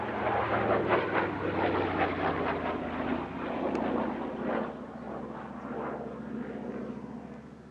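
A Yak-3U warbird, built in Romania and fitted with a Pratt & Whitney R-2000 radial engine, flies a display at an East Kirkby airshow, its engine droning steadily and loudly throughout as it passes overhead, with no talk.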